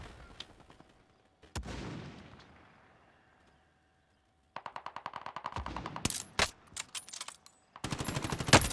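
Call of Duty gunfire: a lone shot with a fading tail, then rapid automatic bursts and sharp single shots, loud and close, broken by short pauses.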